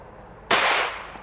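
A single sharp report from a .22 pistol at an outdoor shooting range, sudden and fairly loud, with a short ringing decay and a faint second pop shortly after.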